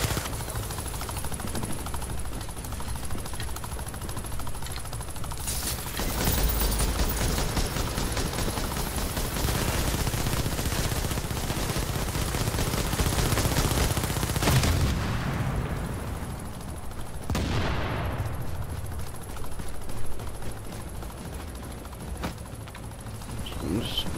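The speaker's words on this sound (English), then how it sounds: "it's just another turret. Please stop shooting at me." An automated turret in the shooter game The Division fires sustained, rattling bursts at close range, with loud gunfire and impacts continuing for long stretches while a person talks over it.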